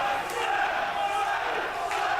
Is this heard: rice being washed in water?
no